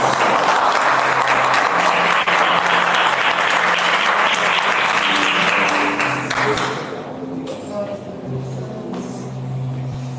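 A congregation in a church service applauds loudly and steadily for about six seconds, then the clapping fades out while soft sustained musical tones continue underneath.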